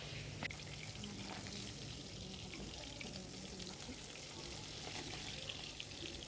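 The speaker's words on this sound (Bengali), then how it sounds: "এই মাছগুলো ভাজা হয়ে গেছে" Katla fish pieces frying in hot oil while preparing a Bengali doi katla, a steady, fairly loud broadband sizzle that runs continuously without a break and with no talking.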